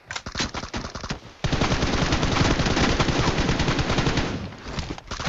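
Rapid automatic gunfire from the video game PUBG Mobile, a short burst, a brief gap, then a long sustained stream of loud, close shots.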